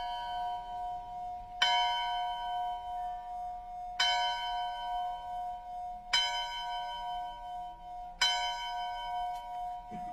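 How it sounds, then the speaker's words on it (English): Church bells ring at 10 a.m. in Paintsville, Kentucky, four clear, resonant strikes roughly two seconds apart, each one hanging in a long ringing decay, moderately distant and heard with no one speaking. "This is one of those 10 a.m. bells in Paintsville"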